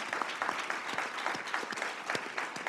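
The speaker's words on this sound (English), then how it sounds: "please join me in a round of applause for our brilliant panelists." Applause from a conference audience for a panel on world-changing technology, a steady dense patter of many hands clapping at moderate distance, sustained throughout with no talk over it.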